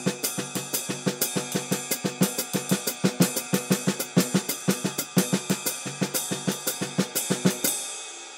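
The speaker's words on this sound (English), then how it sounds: "Then, of course, you can apply it to the hi-hat." Crisp, close drumming in a medium swing feel, the hi-hat keeping an even lilting pulse while snare and kick accents fall between, fading out at the end.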